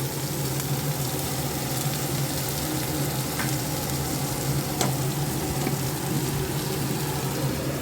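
Lightly crushed garlic cloves fry in a pan, making a steady, close sizzling hiss with occasional soft clicks and stirring sounds throughout.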